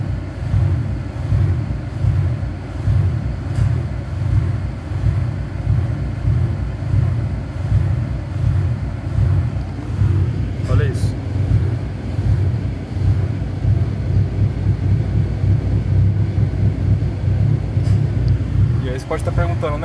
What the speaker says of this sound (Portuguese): Você parece não se importar com essa lenta aí parecendo um Fusca com carburador de 1950